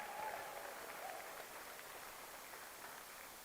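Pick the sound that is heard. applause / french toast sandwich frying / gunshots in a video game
applause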